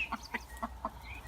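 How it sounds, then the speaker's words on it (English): Baby chicks give four quick, soft clucks close by in a coop, evenly spaced and faint over a low background hum. "Cuddling chicks. Hey, cheeky chicks."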